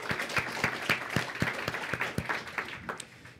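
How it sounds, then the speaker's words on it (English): A crowd claps for the organizers at a Google and MCC data innovation event in Manhattan, a dense round of hand claps with some louder individual claps standing out, steady for about three seconds and fading slightly at the end. "round of applause for them"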